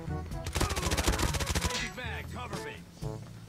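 Rapid submachine-gun fire in Call of Duty Mobile rattles out as a dense, loud burst of evenly spaced shots for about a second and a half, followed by quieter in-game effects and a brief voice.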